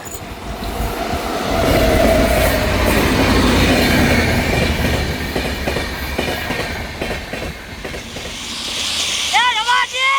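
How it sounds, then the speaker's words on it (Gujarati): A train rolls along railway tracks in a Gujarati comedy sketch, its rumbling clatter loud and steady with rhythmic wheel clicks, while people talk over it and a high whistle-like tone rises near the end. "એ તારી બાપ રેલગાડી આવી."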